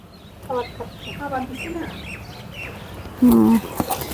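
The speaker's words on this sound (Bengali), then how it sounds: "এই যে আমাদের ছাদে কবুতর আসছে" Chirps and soft cooing calls from pigeons on a rooftop nearby, with chatter and some background movement, plus a louder brief call near the end.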